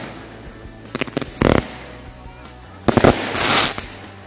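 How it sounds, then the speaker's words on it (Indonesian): A Wonderful-brand firework cake bursts on Takbiran night, with two loud clusters of rapid crackling pops separated by a short pause, heard up close outdoors. "Itu dia hasilnya dari mercon Wonderful ya."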